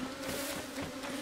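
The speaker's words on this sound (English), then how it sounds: "And then the bees are gonna come after me." Bees buzzing in the video game Zelda: Tears of the Kingdom after honey is taken, a steady droning hum with a sustained tonal whine, close and continuous, no speech.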